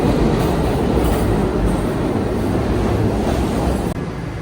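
A New York subway train roars loudly and steadily, its wheels clattering and rumbling close by without a break.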